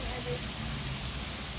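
Steady rain falling outdoors, a dense even patter that holds at moderate loudness throughout with no break.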